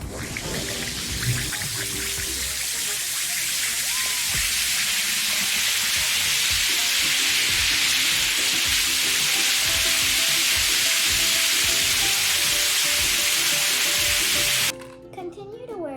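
Half an antacid tablet fizzing in a cup of hot water, a steady, loud hiss of bubbling effervescence that holds nearly unchanged for about fifteen seconds before cutting off abruptly near the end.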